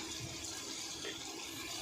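Water pours steadily into a cooking pan with a soft continuous splashing hiss, faint and close, with no talking.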